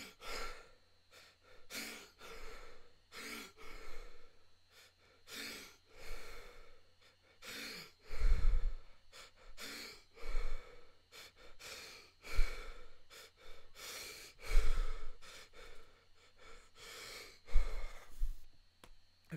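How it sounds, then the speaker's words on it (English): Rapid, heavy breathing from a man, hard inhales and exhales repeating in quick bursts for about fifteen seconds, close and loud, with deep rushing gusts at the stronger breaths. "Rapid inhales, exhales."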